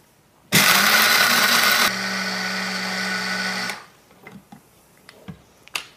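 A blender grinds pumpkin seeds into powder, switching on with a loud whirring roar that drops to a steadier lower drone after about a second, then cuts off, leaving a few light knocks and taps.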